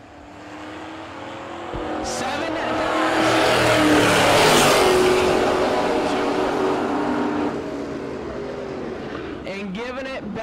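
A Pennsylvania 1968 Camaro drag racing at a no-box drag event, its engine roar swelling into a loud, sustained run and then fading, with an announcer talking over it.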